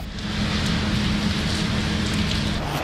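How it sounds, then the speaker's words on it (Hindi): Heavy rain in Lahore, a dense continuous hiss of downpour with a low steady rumble beneath it and no voices. "लाहौर में खूब बारिश हुई।"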